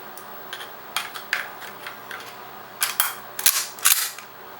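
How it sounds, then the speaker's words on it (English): The integrated magazine of a Mosin Nagant bolt-action rifle is opened, giving a string of sharp, close metallic clicks and snaps in uneven bursts, the loudest cluster near the end, with no talk. "the magazine is integrated. Comes right out."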